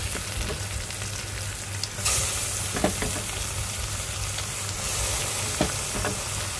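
Tomatoes and onions frying with curry leaves in a pan for a chicken curry, a steady loud sizzle broken by several sharp scrapes and clinks of stirring, heard up close without speech.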